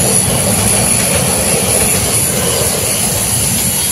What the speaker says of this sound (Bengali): এই যে ট্রেন কত লম্বা, কত মানুষ দেখেন